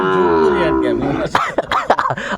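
Sahiwal bull calves on a farm give a long, loud drawn-out moo, followed by a few shorter, choppy bovine calls and rustling nearby.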